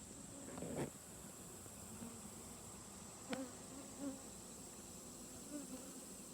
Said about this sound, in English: There's a lot more bees up there for sure.